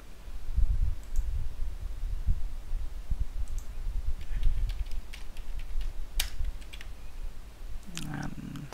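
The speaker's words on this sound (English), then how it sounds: "type the password for cluster admin account on Hyper-V 2" Keys clicking on a computer keyboard as a password is entered for a Hyper-V server login, sparse irregular taps spread across several seconds with a low background hum underneath.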